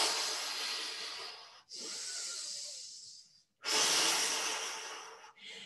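Rhythmic breathing during a fast arm exercise, with long loud hissing inhalations and exhalations in alternating bursts, close to the microphone.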